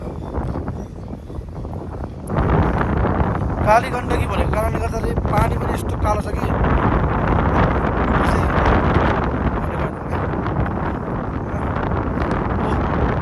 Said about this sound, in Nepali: मलाई हावाले दायाँ र बायाँ पारेर छ यार।